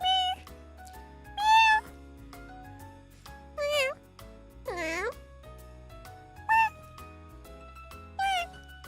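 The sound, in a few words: cat meowing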